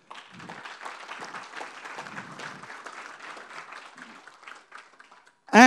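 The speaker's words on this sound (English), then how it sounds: "Give him a round of applause." Audience applause at a speaking convention, a steady wash of many hands clapping at moderate level for several seconds before it tapers off.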